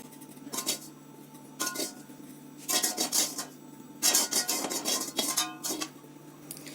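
Fried vermicelli being lifted out of a pan while making sheer khurma, heard as intermittent scraping and clinking of a metal spoon against the pan in short bursts, close by, with no voices.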